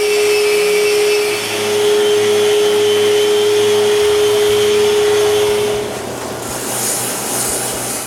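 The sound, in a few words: sanding the top of wooden step stools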